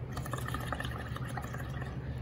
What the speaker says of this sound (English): Then you want to mix it, then you want to blow bubbles.